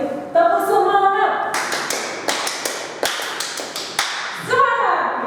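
A seminar audience on a tax-awareness talk performs the rhythmic 'tepuk semangat' clapping routine, a series of sharp, patterned claps in bursts, with a speaking voice at the start and end.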